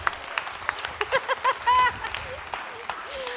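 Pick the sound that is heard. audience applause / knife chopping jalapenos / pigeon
audience applause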